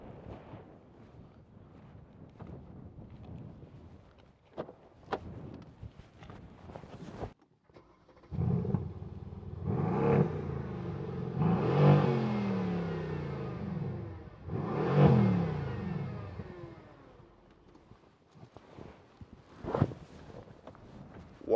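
A 2016 Mercedes-Benz C63 AMG with a 4.0 V8 BiTurbo fires up with a loud burst, then settles to a burble broken by several throaty revs that rise and fall, alone, with some wind noise.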